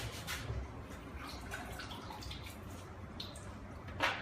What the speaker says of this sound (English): It's being rinsed now.